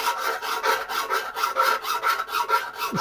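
A hand file smooths the sawn edges of silver work in a silversmith's workshop, with a steady run of about a dozen rhythmic rasping strokes, close and clear, with no talking.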